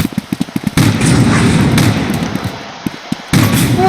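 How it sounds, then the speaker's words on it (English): A rocket launcher fires in the video game Havocado, with a rapid run of sharp shots, then loud roaring blasts and further thuds, all close and loud with no talk. "Pick your gun. Rocket launcher!"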